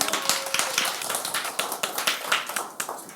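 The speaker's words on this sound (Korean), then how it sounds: "박수 부탁드립니다." A church congregation claps at a Sunday service, a fairly sparse, uneven patter of individual hand claps heard at a distance and at low volume.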